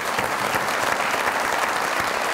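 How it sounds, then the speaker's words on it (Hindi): Studio audience applause on a comedy talk show, a dense, even wash of many hands clapping at moderate level with no break. "बहुत सारी तालियां इनके लिए भी।"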